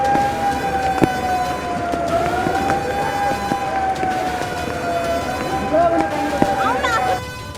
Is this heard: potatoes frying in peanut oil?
no